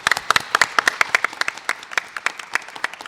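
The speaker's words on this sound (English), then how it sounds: "Can we get a round of applause, please," Audience at a State Senate District 10 candidate forum claps for the candidates, a lively round of close, crisp hand claps filling the whole stretch without speech.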